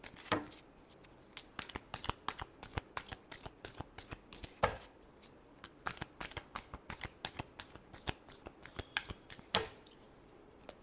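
Tarot cards being shuffled by hand, a long run of quick riffling snaps and flicks in close, steady bursts with no talking.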